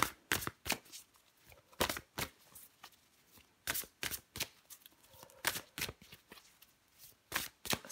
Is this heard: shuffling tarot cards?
yes